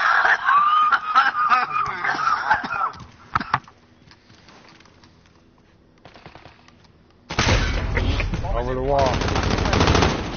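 Video game gunfire comes in loud rapid bursts at the start and again near the end, separated by a quieter stretch, with laughter and talking mixed in.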